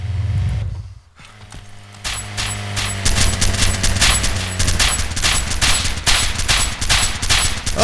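Dense, loud bursts of automatic gunfire in Arma 2 DayZ Overpoch, fired at a Nissan 350Z car, rapid shots rattling continuously with a quieter lead-in before the volley.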